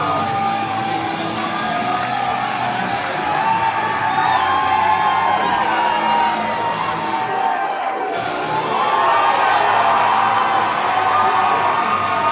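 Wrestling crowd at an ICW heavyweight championship event roars and cheers through a wrestler's ring entrance, a dense, loud, sustained wash of shouts and whoops that swells again toward the end.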